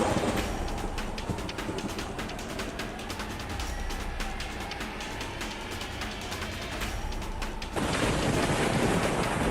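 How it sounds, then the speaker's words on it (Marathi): A heavy monsoon thunderstorm in Khopoli brings loud, dense rain with a low, continuous rumble of thunder, and the rain grows noticeably louder and harsher near the end. "विजांच्या कडकडाटासह मुसळधार पाऊस झाला"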